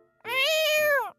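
One long, clear cat meow, close and loud, rising then falling over about a second, with nothing else around it.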